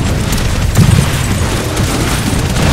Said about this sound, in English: Wow, the amount of explosions.